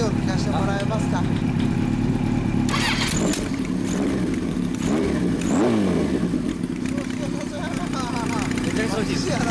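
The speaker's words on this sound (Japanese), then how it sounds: "エンジン音聞かせてもらえますか？" A 1975 Kawasaki Z1B motorcycle with a Moriwaki exhaust idles close by and then revs up sharply a few times, its roar rising and falling, while people talk nearby.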